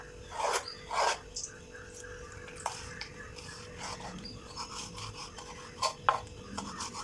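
Washed fresh squid being cut by knife for a dry kerala-style perattu curry: soft scraping and rasping strokes close by, with a few sharper slicing pulses and small kitchen clatter between them.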